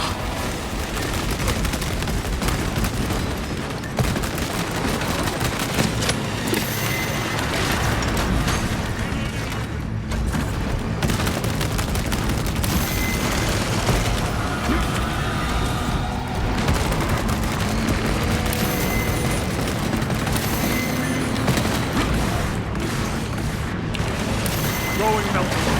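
Dense battle din from Warhammer 40k Space Marine 2, with booming gunfire and explosions layered over a constant loud roar of combat noise and music, with voices calling out amid the fighting.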